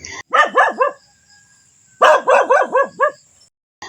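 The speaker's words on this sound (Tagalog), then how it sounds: "Maya-may narinig ni Mang Karyas ang sunod-sunod na kahol ni Sagani." A pet dog named Sagani barks in two quick bursts of four or five loud, close yelps each, separated by a short pause, with no talking.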